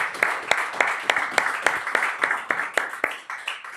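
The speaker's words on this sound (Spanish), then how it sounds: "Vamos a aplaudir al Señor" Church congregation applauding together in a worship service, a steady wash of clapping with sharp individual claps standing out in an irregular rhythm, fairly close and loud, with no talk over it.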